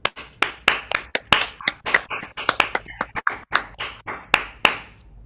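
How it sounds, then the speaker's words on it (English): A small audience claps for co-authors at a book launch event. The claps are sparse, sharp and distinct, irregular and close by, with brief gaps between them, and they fade out near the end. "let's all give them a loud roar of applause"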